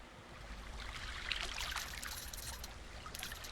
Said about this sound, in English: The water is rising quickly.